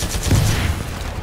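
Rapid EVA-8 shotgun fire in the video game Titanfall 2, a quick burst of loud, punchy blasts running together over a dense game soundscape.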